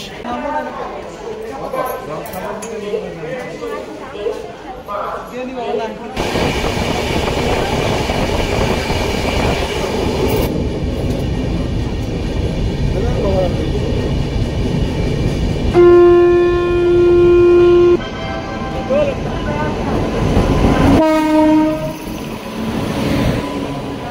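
Train at Gomoh Junction railway station, a loud passing rumble with clattering, then a sustained horn blast and a second shorter horn, amid platform noise and voices.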